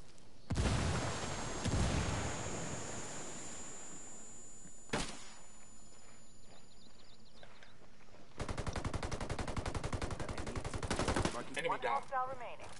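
Gunfire in the Ghost Recon video game, with scattered loud shots early on, then a long sustained burst of rapid automatic fire, fairly close against a quiet background.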